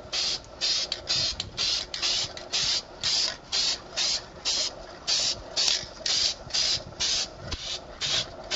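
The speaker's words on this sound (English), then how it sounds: "I'm not doing continuous spray" Short repeated bursts of spray paint hiss onto a Nerf Stryfe blaster as its base coat goes on, roughly two per second in an even, close rhythm of on-off spraying, with no talking.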